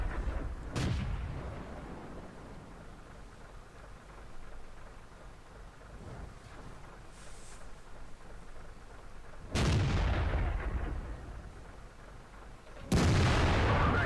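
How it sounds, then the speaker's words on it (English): Tank cannon fire from World of Tanks, with a KV-2 and E25 in play, lands as three heavy booming shots, one early and two later, each a sudden loud blast that decays into a low rumble over quiet background ambience. "And a nice shot on the turret."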